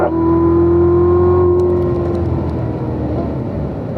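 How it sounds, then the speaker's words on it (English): Race cars at a circuit holding a steady loud engine drone as they accelerate and shift up a gear, a sustained tonal whine that eases slightly in pitch, close and alone without talk. "Everybody's going up a gear."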